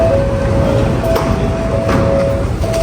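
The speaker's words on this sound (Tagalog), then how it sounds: "Ganda ng train oh." A modern train at Castle Hill station rumbles loud and close with a constant roar and a thin high whine running throughout.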